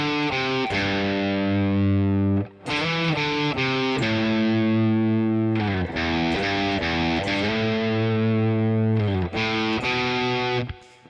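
Overdriven electric guitar plays the opening bars of a song in standard tuning, ending on the lead-in notes, loud sustained chords and picked phrases with a short break, nothing else heard.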